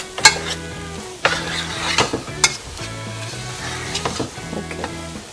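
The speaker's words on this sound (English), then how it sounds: "look like I'm going to have to add a tad more oil" Oil sizzles in a hot pan while shrimp stew is being cooked, with steady frying crackle and a few distinct utensil scrapes and knocks from stirring, close and alone without talk.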